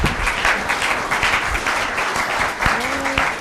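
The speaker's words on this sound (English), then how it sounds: "Oh, yeah, let's clap for Barry." Conference audience at a grid storage and renewables panel claps for a departing panelist, a dense, even round of applause with a few brief voices and faint tones mixed underneath.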